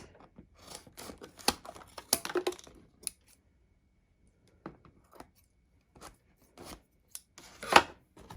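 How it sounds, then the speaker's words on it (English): Scissors snip off the corners and loose threads of a beeswax-coated fabric bag, giving a series of short, crisp cuts spaced irregularly with quiet gaps, close and fairly faint. "we're going to snip these corners"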